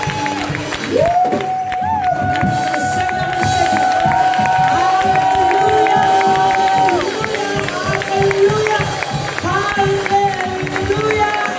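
A worship congregation cheers and acclaims during a praise service, a loud sustained crowd roar with shouts and whoops, a long sung or shouted tone rising over the noise, continuous for the whole span.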